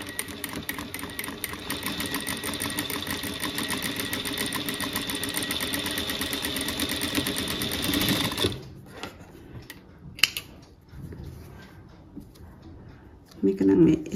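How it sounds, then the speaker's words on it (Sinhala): A sewing machine stitches through fabric with a steady, even mechanical whir for about eight seconds, then stops and leaves only faint handling noises and a brief sound near the end. "බලමු දැන් මේක මහලා මම වෙන රෙදි කොටසක මහන්න."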